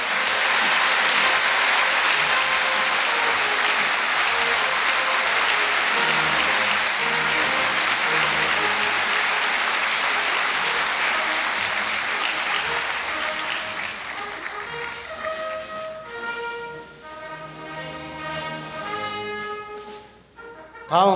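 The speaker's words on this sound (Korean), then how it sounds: "많은 박수로 축하해 주시기 바랍니다." Audience applause fills a university hall at a president's inauguration ceremony, a dense, loud ovation that holds steady for about thirteen seconds before thinning into scattered claps as instrumental music rises underneath.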